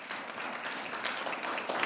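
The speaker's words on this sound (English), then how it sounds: "I'd like us to recognize them with clapping" Church congregation clapping in applause at an annual business meeting, a steady, dense patter of many hands that stays fairly even and close throughout, with no speech over it.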